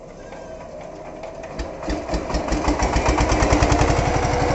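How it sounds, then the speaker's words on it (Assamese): Tractors started up after the Vishwakarma puja, one engine quiet at first and then catching into a rapid, loud, rhythmic chugging that builds and keeps running close by. "এতিয়া আমাৰ ট্ৰেক্টৰখিনি এতিয়া ষ্টাৰ্ট কৰা হ'ব অলপকৈ"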